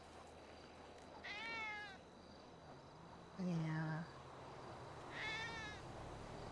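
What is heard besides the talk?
cat meowing in a video game (GTA V)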